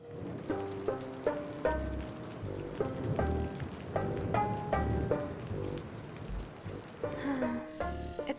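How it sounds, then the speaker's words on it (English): Cartoon rain patters steadily beneath a gentle melody of soft repeated notes, with a brighter chime near the end. "It's raining"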